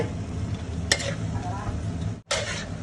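Something being stir-fried in a pan, a soft continuous sizzle with a couple of sharp scraping stirs and a brief break near the end.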